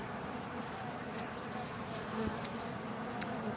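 A steady, dense buzzing of many honey bees cleaning out wax fills the air close by, with occasional louder passes of individual insects.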